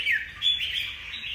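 A wild-caught songbird, a newly trapped Vietnamese bulbul type with a black bib, gives a steady high-pitched squawking call that runs continuously through the short moment, close and fairly clear with no talk over it.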